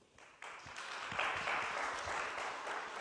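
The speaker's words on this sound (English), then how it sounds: "we have an applaud also from the audience" Audience applause at a Riga tuberculosis-cooperation event with Eastern Partnership representatives, starting low and swelling after a moment into steady, dense clapping that holds at moderate distance for the rest of the moment.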